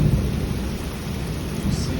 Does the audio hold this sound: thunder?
yes